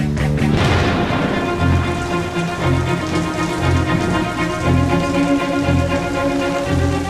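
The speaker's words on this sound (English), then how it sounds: "Will the rain hold off long enough for me to get this job done?" Rain falls steadily on a garden where a trench is being dug, a loud continuous patter under a sustained tonal layer of music throughout.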